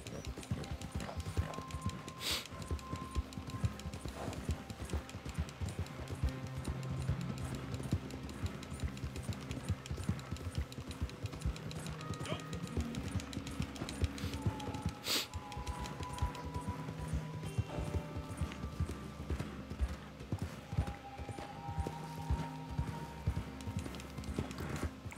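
A horse gallops in Red Dead Redemption 2 online, its hooves thudding in a steady clip-clop rhythm for the whole stretch under game music and occasional effects, with no speech over it.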